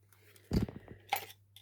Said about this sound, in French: on prend les ciseaux et on donne un tout petit coup de ciseau